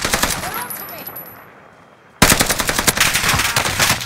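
Rapid bursts of automatic gunfire in the Call of Duty Caldera battle map, loud and close, fading to near silence before a sudden dense barrage of shots resumes.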